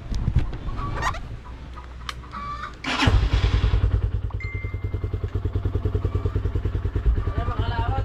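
A motorcycle engine starts after a few clatters and thumps, then settles into a steady rhythmic idle as it warms up, close and loud, with brief voices and a rooster-like call in the background.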